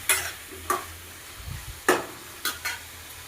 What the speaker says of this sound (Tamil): கத்திரிக்காய் நல்லா வதங்கி வந்துருச்சு